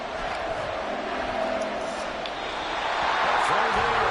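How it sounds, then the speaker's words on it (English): A stadium crowd in an American football video game cheers ahead of a big third down, a steady, loud wash of roaring voices with swelling noise toward the end. "the crowd getting into it as we come up on a big 3rd down"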